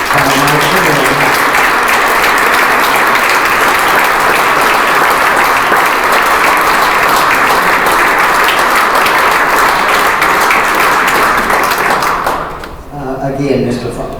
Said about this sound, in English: if my colleagues would please rise with a round of applause